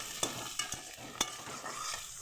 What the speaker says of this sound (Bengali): দেখো এবার পেঁয়াজটা আমি ভেজে নেব